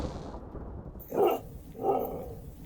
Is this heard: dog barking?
yes